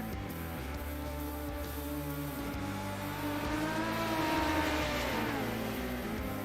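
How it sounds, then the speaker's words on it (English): Several midget race car engines in the NetCode ESports Mighty Midget Series at I55 Speedway drone and whine together in a sim race warm-up, a steady layered roar that rises and shifts in pitch as the cars accelerate. "we got car sounds"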